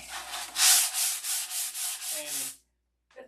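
Rhythmic hand sanding with 600 grit sandpaper, about eight close, even rasping strokes in a steady back-and-forth pattern, then a brief pause and a faint short scrape.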